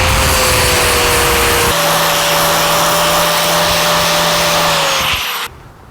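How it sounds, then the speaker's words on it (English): Loud, steady power grinder working over welded sleeves on a 1949 Chevrolet gasser, a continuous high whine that shifts pitch once midway and then cuts off abruptly near the end. "And now some grinding to make it look pretty."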